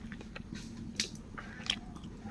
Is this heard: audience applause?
no